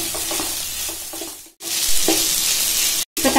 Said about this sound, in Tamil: ஒரு தக்காளி எடுத்து சின்னதா கட் பண்ணி வச்சிருக்கேன் அதை இதெல்லாம் சேர்த்துட்டு வதக்க